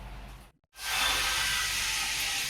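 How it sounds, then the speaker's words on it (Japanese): A steam convection oven in a large school lunch kitchen gives a brief pause, then a loud, steady hiss of steam that fills the space and holds without a break. "今回の調理はスチームとオーブン両方の機能を使っています。"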